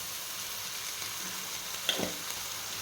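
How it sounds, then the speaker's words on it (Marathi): Cluster beans sautéing in oil for a village-style gawar bhaji, a soft steady frying hiss with a couple of brief stirring clicks near the end, close and fairly quiet with no talk. "तेलामध्ये थोडं परतून घ्यायचे आहे"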